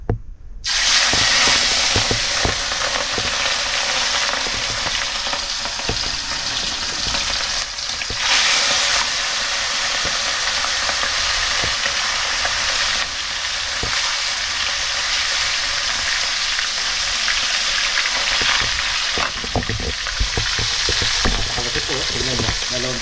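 Fish frying with ginger in a crowded pan over high heat, a loud steady sizzle and hiss filling the whole stretch with occasional stirring scrapes and brief dips.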